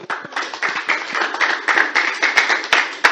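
A conference audience at an international women's rights event breaks into brisk applause. Many hands clap in a dense, uneven patter that grows slightly louder toward the end.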